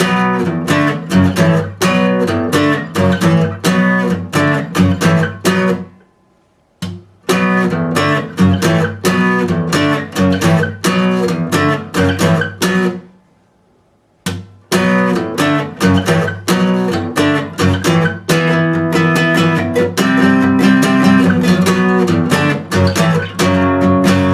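Guitar plays the full chorus of a song at real speed, loud strummed chords in a driving rhythm, broken by two short silent pauses before the riff resumes.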